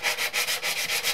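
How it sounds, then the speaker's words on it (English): A sanding block rubbed back and forth over wood while building a cigar box guitar, with rhythmic close-up scratchy strokes, about seven even passes, loud and alone. "sanding block over it a little bit."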